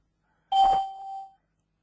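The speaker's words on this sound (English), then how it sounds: "Little bells are going off" A single bright electronic chime rings out from a computer, a clean ding with a short ringing tail that fades after about a second, alone in an otherwise quiet room.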